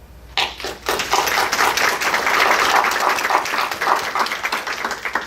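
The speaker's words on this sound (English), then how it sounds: "So I want to applaud that." Audience applause at a Seguin ISD school board meeting: a sudden burst of dense, steady clapping from a roomful of people that holds loud and even throughout.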